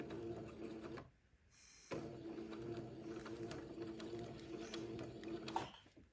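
A sewing machine runs in steady, close stitching bursts while a bias neckband is sewn on, with a brief stop near the start before the even mechanical whir resumes.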